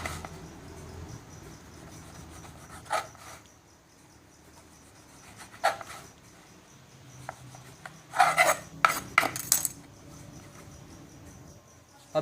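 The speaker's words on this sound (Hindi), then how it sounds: "ब्रेड को इस तरह आपने काट लेना है" A knife saws through slices of bread for a bread pizza, giving a few short rasping strokes with quiet gaps between them, loudest in a close cluster near the end.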